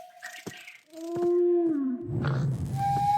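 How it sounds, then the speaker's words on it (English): Aerwhale, a flying whale creature from an Aether addon for Minecraft, gives a few low, drawn-out moaning calls with a tonal sweep, followed by a rumbling, breathy roar near the end, loud and close with no talk. "Also, you get the Aerwhale."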